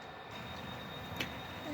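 An HO scale model train runs along its track, a faint continuous rolling rumble with light clicks, steady for a couple of seconds and quiet.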